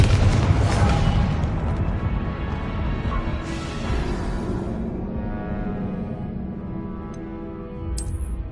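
Confringo explosion spell cast in a wizarding video game, heard as a dense, rumbling blast-like roar that stays loud and sustained throughout, with a brief sharp crackle near the end.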